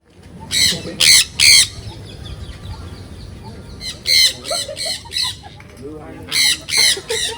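Loud, close bird squawks at a park in Matara, Sri Lanka, coming in harsh bursts of three to four calls separated by pauses, over low crowd murmur and faint background chatter.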